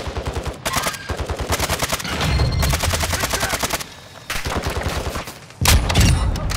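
Rapid automatic gunfire in the shooter game Call of Duty: Modern Warfare II DMZ, loud close bursts of fast shots broken by short pauses, ending in a heavy blast-like burst.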